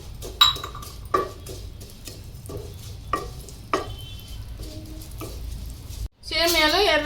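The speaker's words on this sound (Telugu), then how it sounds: "ఈ నెయ్యిలోనే సేమియా వేపుకుందాం." Vermicelli (semiya) frying in ghee in a pan makes a steady low sizzle, broken by repeated sharp scrapes and clinks of a stirring spoon, and a brief burst of other sound comes at the end.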